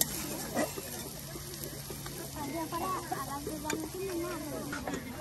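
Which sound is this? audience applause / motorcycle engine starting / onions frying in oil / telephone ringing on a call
onions frying in oil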